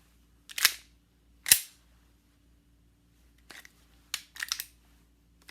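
Airsoft Glock pistol, stock internals, being chambered: a few sharp metallic clacks and slide snaps, close and crisp, separated by short silences, with no talk.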